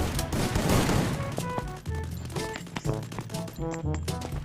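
Rapid bursts of SCAR rifle gunfire in the Free Fire battle-royale game crackle loud and close, with dense volleys and game effect tones.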